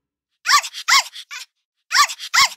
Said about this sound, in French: Un petit jappement derrière lui le fit sortir de ses pensées